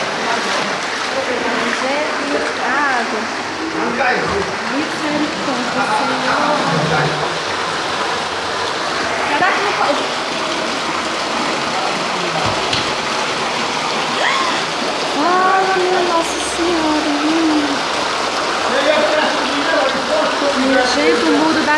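Floodwater rushing around a house in Cacimba Nova, a loud, continuous roar of flowing water with people talking in Portuguese over it.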